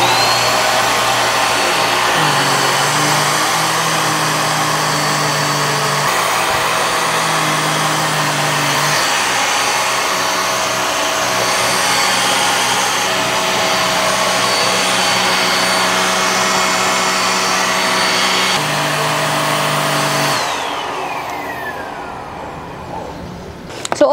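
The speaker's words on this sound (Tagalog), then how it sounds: "Gimy BX7 Pro Vacuum" A Gimy BX7 Pro household vacuum cleaner runs steadily with a loud, continuous motor whine and airflow roar, its pitch shifting slightly a few times before it powers down near the end.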